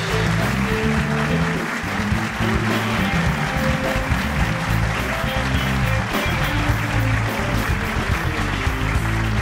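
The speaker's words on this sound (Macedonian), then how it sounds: "Аплауз!" A studio audience applauds a guest from a band on a talk show. The dense, continuous clapping fills the whole stretch at steady volume over a low humming musical bed.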